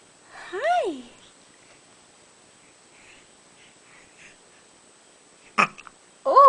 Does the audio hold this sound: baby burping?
yes